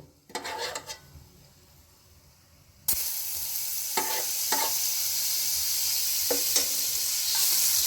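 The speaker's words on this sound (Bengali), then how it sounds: "ভাজা ভাজা হয়ে গিয়েছে, এর মধ্যে আমি 1 চামচ মাখন দিয়ে দেবো।" Spices frying in butter for bhetki kalia: a few quiet pan clinks come first, then a sudden loud sizzle bursts in and keeps crackling steadily up close, with occasional stirring scrapes.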